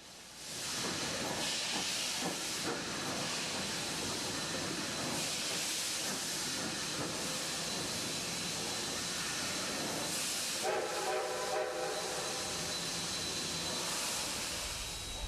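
Narrow gauge D&RGW steam locomotive near Chama, New Mexico, with a steady loud hiss of steam venting and a broad rumbling roar that holds throughout, with a brief tonal whistle-like burst late on.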